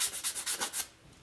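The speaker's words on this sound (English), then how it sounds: "I'm gonna sand it, and you can take a sanding block and just kind of like go across the edges" Sanding block rubbed across the edges of a wooden heart, about six quick rhythmic scrubbing strokes up close, then a quiet stop.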